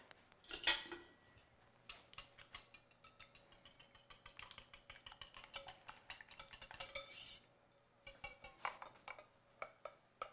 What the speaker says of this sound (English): And before I add this to my flour mixture, I'll give it a quick whisk.